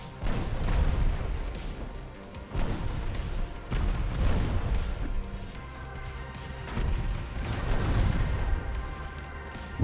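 Naval gunfire and shell explosions in Ultimate Admiral: Dreadnoughts, a dense run of deep booms and crashes rolling one into another at a loud, constant level, with heavier blasts every couple of seconds.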